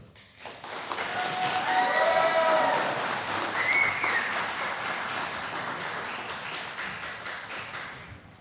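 An audience at a Bowie County Republican meet-the-candidates event breaks into applause for a group of candidates, the clapping swelling quickly, holding steady, then thinning out near the end, with faint voices beneath.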